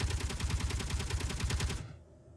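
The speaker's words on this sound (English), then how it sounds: "Come on, turrets, kill it." Defensive turrets in the video game Underground Alone firing a rapid, evenly spaced automatic burst, loud and close, cutting off abruptly near the end.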